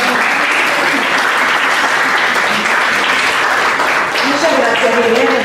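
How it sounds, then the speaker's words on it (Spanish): Audience applause at a talk with an actress about theatre and literature, a continuous, loud, dense wash of clapping from a crowd, sustained without pause. "Vamos a aplaudir otra vez y los aplausos van"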